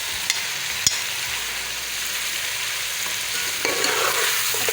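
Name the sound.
stirring spices and chili powder into the biryani masala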